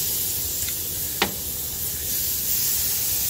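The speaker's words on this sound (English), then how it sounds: "we're going to get these on the propane grill first." Meat searing on a Weber propane grill gives a steady, broad hiss with one brief sharp pop partway through, close and continuous, with no voices.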